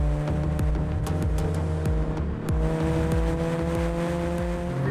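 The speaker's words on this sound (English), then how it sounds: "that supercharger whine is nice" A track-prepped Mini Cooper JCW runs hard on a circuit, its engine note holding steady tones with a supercharger whine layered over the loud, close drone, plus repeated sharp clicks.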